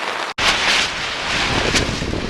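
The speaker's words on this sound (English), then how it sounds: "it's a little windy." Wind gusts blowing hard across the microphone, a broad rumbling rush that swells and eases, briefly cutting out near the start.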